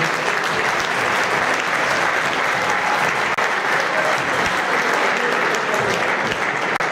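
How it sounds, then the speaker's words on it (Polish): Dense, steady applause from a crowd for the nominated Stal Stalowa Wola football players at the 2014 team presentation. It is loud and sustained with no break. "Dziękujemy i brawa dla wszystkich nominowanych zawodników."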